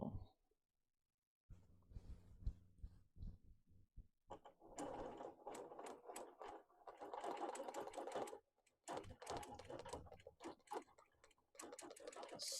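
A sewing machine doing free motion quilting, stitching words into fabric, runs in fast rapid bursts with brief stops between runs, close and clear with no talk.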